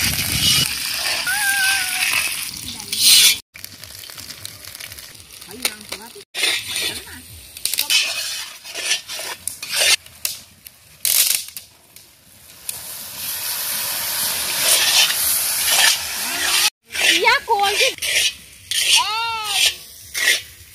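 Green chili hitting hot oil in an outdoor cooking pan at a picnic while ghugni is made, giving a loud, steady hiss and crackle with sharp bursts, occasional pauses and a voice speaking over it.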